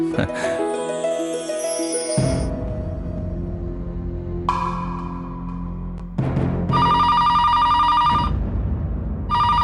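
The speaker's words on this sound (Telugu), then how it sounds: "ఫోన్ అరే ఫోన్ ఇప్పుడు వచ్చిందేంటి?" An electronic telephone ring sounds in repeated bursts, bright and trilling, separated by short gaps, with background music and noise.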